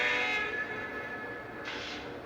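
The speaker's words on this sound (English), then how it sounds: "So I can run the Lionel train sets using a Bluetooth app on an iPad, iPhone, Android" A Lionel O gauge model train, the Monon 502, runs steadily with a continuous mechanical hum and whir. A brighter hiss swells near the end, heard close and alone.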